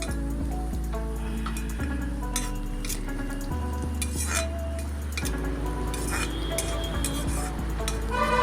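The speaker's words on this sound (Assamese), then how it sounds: "এতিয়া মই অকণমান গোটা জিৰা দিলোঁ ইয়াত।" Whole cumin seeds dropped into hot oil for an Assamese fish curry, giving a steady close frying sizzle and crackle with occasional clinks of a utensil against the pan.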